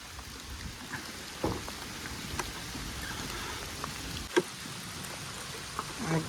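Steady first monsoon rain of the season in Konkan hisses across the whole stretch, broken by a few sharper drip and knock sounds, with no voices.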